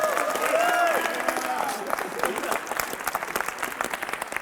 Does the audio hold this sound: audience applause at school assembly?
yes